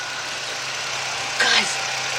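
A Chrysler Sebring engine idles steadily nearby with a smooth, even hum, and a short faint chirp rises over it midway.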